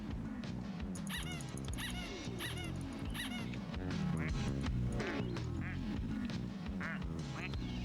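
Cartoonish duck quacks from a streamed video game where chat members become ducks, a dense, rapid flurry of overlapping quacks and squeaky calls over constant game music, with some faint talk.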